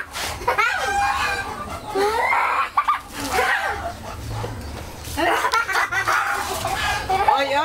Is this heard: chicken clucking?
yes